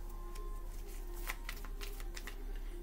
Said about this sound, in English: I'm going to keep shuffling and see what comes out.